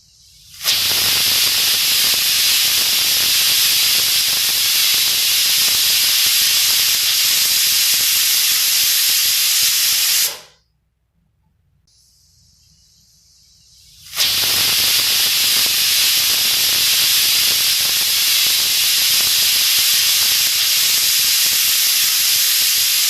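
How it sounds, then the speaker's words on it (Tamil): A pressure cooker of mushroom curry on a medium flame gives off a loud, steady steam hiss that cuts out for a few seconds and then resumes just as strongly. "இப்போ இது ஒரு 2 விசில் வர வரைக்கும் வெயிட் பண்ணலாம்."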